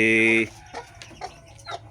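A first-time mother hen clucks briefly near her newly hatched chicks, a short clear call at the start followed by faint chick peeps and soft movement nearby.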